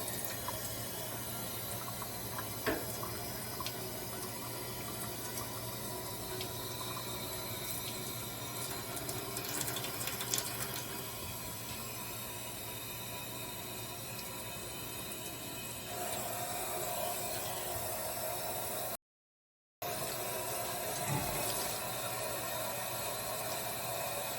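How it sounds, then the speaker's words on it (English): Tap water runs steadily over a screen-printing screen in a sink, a continuous broadband rush with a brief dropout near the end, no voices. "let's just run some water over it."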